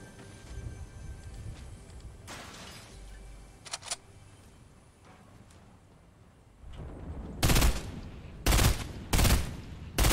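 Video game gunfire crackles in an online shooter, faint scattered shots early, then several loud, close bursts of rapid automatic fire in the final seconds, with no voices over it.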